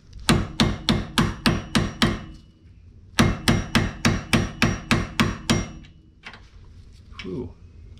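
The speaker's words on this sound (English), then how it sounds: "Just had to beat off some rust." Metal hammer strikes knocking rust off a 2011 Lincoln MKS shock and sway bar link assembly, two bursts of about seven sharp, evenly spaced blows each, then a few scattered lighter knocks and a brief voice.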